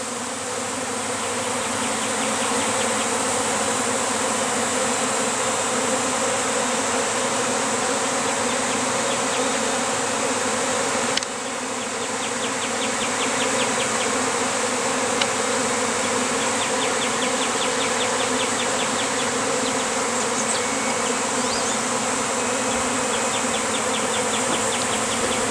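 Honeybees swarming out of a hive box make a dense, continuous buzzing drone throughout, loud and close, with no voices.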